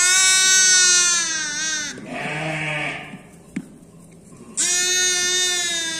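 A ewe bleats loudly and close by among her newborn lambs on a farm: two long, wavering calls framing a shorter, quieter bleat, with a sharp click in the pause and no talking.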